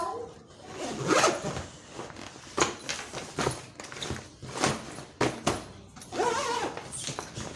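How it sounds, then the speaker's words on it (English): A zipper is drawn around an expandable travel bag in a series of rasping pulls and short bursts, close up, with some handling noise between strokes. "So now let's try to zip it and see what it will give us."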